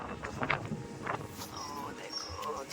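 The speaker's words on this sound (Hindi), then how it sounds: "देखो तूफान, हवा चल पड़ी है" Stormy wind gusts through an open Jaisalmer setting on the first day of the monsoon season, a steady broadband rush with mic buffeting, with voices talking over it.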